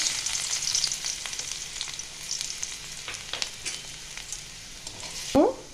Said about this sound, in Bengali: তেলটা আমার গরম হয়ে গেছে। আমি একটু রসুন দিচ্ছি